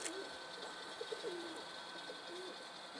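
A pigeon coos faintly, with a few soft low calls scattered over a steady background hiss.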